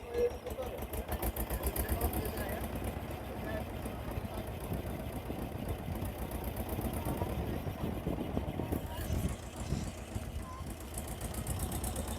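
A narrow engine-powered boat near Kolkata chugs with a steady rapid knocking throb, close and continuous for the whole stretch.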